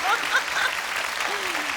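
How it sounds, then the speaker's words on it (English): A studio audience on a late-night talk show claps in a brief, steady burst of applause, with whistles and a short vocal cheer riding over the clapping. "Please, somebody applaud and say they've seen it"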